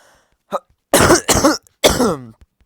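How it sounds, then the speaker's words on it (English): Three harsh, chesty coughs in quick succession, close and loud, preceded by a small throaty sound. "It's got a chesty cough, that's all."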